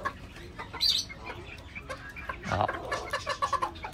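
Ko-Shamo chickens clucking softly and pecking while eating feed, scattered short clucks and chirps close by, with a person calling to them briefly.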